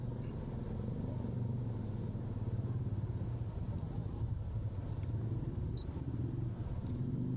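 Continuous street traffic in Pasay near Terminal 3 during light rain and flooding, a steady low rumble of cars and motorcycles passing with no voices.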